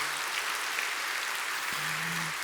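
A church congregation applauds the worship team during a Sunday service, a continuous even wash of clapping heard alone with a faint low hum beneath.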